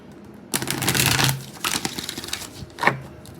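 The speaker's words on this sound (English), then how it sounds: "that was just me cutting the deck, shuffling" A deck of tarot cards being cut and shuffled up close, with a long riffling burst followed by shorter slaps and a final snap of the cards.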